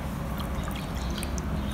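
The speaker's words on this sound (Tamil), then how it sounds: "அது கூட ஹாஃப் கப் தண்ணி." Half a cup of water is poured into a bowl of salt to make homemade clay, giving a brief, steady splashing trickle at close range.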